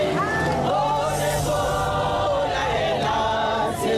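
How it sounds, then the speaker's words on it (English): A crowd of angry women chanting in unison outside a courtroom in South Africa, a loud, dense wall of voices with rhythmic sung phrases sustained throughout. "Here they are chanting, "Why are you killing us, Sithole? Why are you killing us?""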